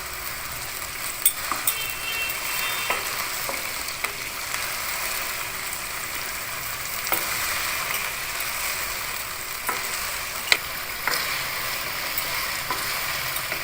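Ginger garlic paste frying in a pan for Lahori murgh chanay, a steady close sizzle with the scrape and clink of stirring breaking through at intervals.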